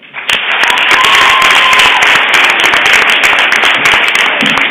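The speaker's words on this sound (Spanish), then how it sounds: "Eso, para mí, merece un aplauso." Loud, dense applause fills a hall at the grand final of a regional cultural olympiad, heavy and continuous from just after the start to the end.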